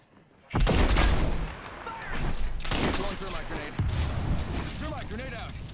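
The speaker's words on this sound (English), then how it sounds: "Shots fired and they're hitting me." Gunfire in Apex Legends: a loud burst begins abruptly after a short quiet start, followed by sustained rapid shots and impacts with a few sharp cracks, while a voice talks over the shooting.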